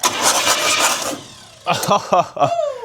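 A Pontiac Trans Am that sat abandoned in the woods cranks over in one loud burst lasting about a second, followed by a short gap and then choppy, intermittent sounds with voices.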